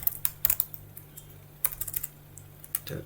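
Typing on a computer keyboard during CSS coding, a scattering of quick key clicks with short pauses between bursts, fairly close and alone.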